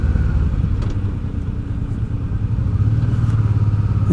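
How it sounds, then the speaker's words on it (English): Motorcycles riding the Col de la Bonette climb, a steady close engine rumble and drone that holds throughout with a slight rise in pitch toward the end, and no talk over it. "Plenty of bikes."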